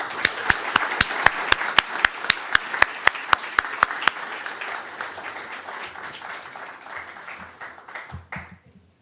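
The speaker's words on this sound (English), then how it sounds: "how about one more round of applause for our winners?" At an awards ceremony, the crowd claps in loud, evenly spaced unison beats that blend into scattered general applause and taper off, with a voice near the end.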